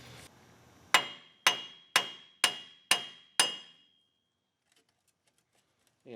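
Six sharp, evenly paced hammer blows ring out close by on the shaft of a 2002/2003 Trailblazer 4WD front wheel bearing, each with a short metallic decay, followed by near silence.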